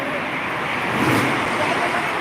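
Steady traffic noise from cars and other vehicles passing outside an airport, a continuous loud roadway roar with no breaks across the whole stretch.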